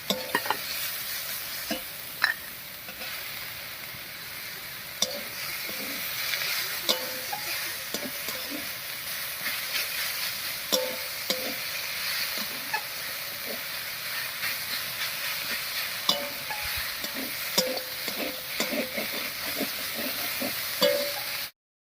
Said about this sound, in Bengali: বেগুন দিয়ে শাকের সঙ্গে খুব ভালো করে মিশিয়ে নিয়েছি